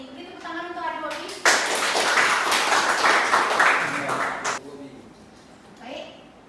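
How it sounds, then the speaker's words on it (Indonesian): A burst of clapping from a classroom of students for a classmate, starting abruptly after a short stretch of talk, lasting about three seconds, then dropping away as speech resumes. "Beri tepuk tangan untuk Adik Bobby"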